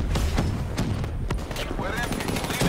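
Shotgun and other weapon fire in Call of Duty Black Ops III gameplay, loud sharp blasts in quick succession over constant game noise and explosions, with a voice talking.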